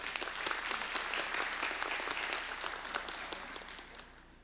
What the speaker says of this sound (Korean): 우리 큰 박수로 우리 환영하도록 하겠습니다.